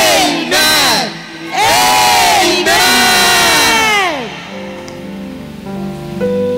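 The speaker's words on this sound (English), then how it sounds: "Shout a louder amen 3 times and take your seat." A large church congregation shouts amen together three times, each loud, rising-and-falling crowd roar swelling into the next before fading into murmuring and settling noise.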